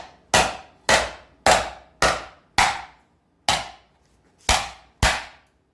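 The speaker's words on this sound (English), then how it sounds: "Now I'm going to hit right along here. Okay? And that's going to bend this metal." Eight sharp, ringing hammer blows on sheet metal for a 1913 Duesenberg cyclekart body, struck against a hollowed-out stump in an uneven rhythm with a longer pause near the middle, loud and close.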